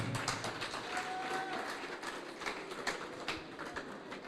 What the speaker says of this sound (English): Step forward, give her a clap.